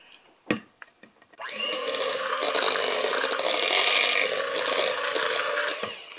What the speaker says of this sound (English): Okay, we blend again.